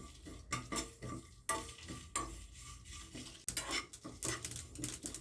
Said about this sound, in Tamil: கடுகுலாம் நல்லா பொரிய ஆரம்பிச்சிருச்சு